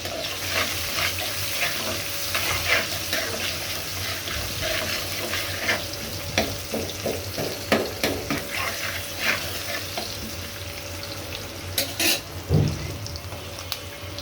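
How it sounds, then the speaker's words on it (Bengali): Chopped onion and spice paste fry in oil in a wok, crackling and sizzling while a spatula stirs and scrapes in irregular bursts, with a faint watery hiss and soft music in the background. "কড়াইতে পেঁয়াজ কুচি আর তেল দিয়ে পেস্টটা হালকা বেরেস্তা করে নিব।"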